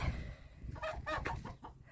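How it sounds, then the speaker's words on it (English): A chicken out walking near a car park on a hillside in Mykonos, Greece, gives a short run of nearby clucks against quiet outdoor background. "Oh, but we do have a chicken having a little walk."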